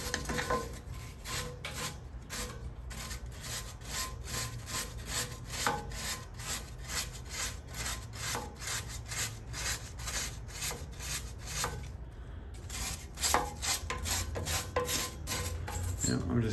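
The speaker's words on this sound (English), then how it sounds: "I'm just going to continue brushing what I can." Steady scraping and rubbing of a brush scrubbing inside a Weil-McLean Ultra boiler during an annual service, a continuous rhythmic back-and-forth texture close by with no talking.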